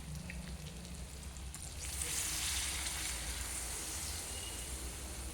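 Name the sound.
water poured into sizzling cooking meat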